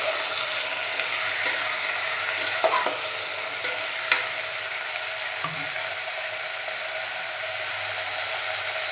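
Potato pieces and eggplant stirred in a hot pan, a steady sizzle with scattered scrapes and knocks of a spoon, mostly in the first half, close and without speech.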